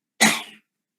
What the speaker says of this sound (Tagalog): Sorry, inuubo ako.